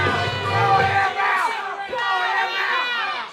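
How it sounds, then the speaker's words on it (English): A wrestling crowd at Mid-States Arena chants "throw him out" in loud, rhythmic unison, a roaring mass of voices rising and falling in repeated waves. "listen to the electric crowd here at Mid-States Arena chanting, throw him out"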